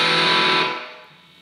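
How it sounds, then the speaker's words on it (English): A loud, fuzzy burst of boosted distortion from a 12AU7 tube guitar amp partly based on the Firefly amp, ringing briefly, then fading into a dying sustain. "Much louder, more distortion."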